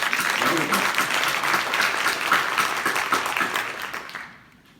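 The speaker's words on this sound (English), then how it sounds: "now we're gonna clap" A military retirement ceremony audience claps for Raphus Parker, a dense, sustained burst of applause that fades away in the final moment.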